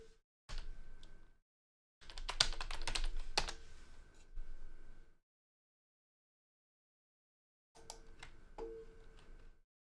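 A password being typed on a computer keyboard gives bursts of quick, close clicking keystrokes separated by silent pauses, quiet and with no talking.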